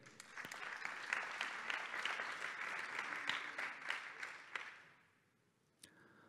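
Business startup day audience applauds as a bike company's cofounder is called up to the microphone: sustained, busy clapping from a sizeable crowd that fades out after about four and a half seconds into near silence, with one faint click near the end.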